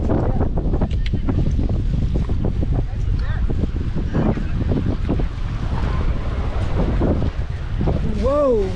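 A boat bounces over big wakes on open water, with steady wind rumble and splashing surf throughout and people exclaiming excitedly over it.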